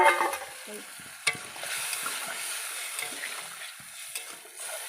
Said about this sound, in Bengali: এবারে এই সর্ষে বাটাটা দিয়ে দেবো, দিয়ে জল দিয়ে দেবো।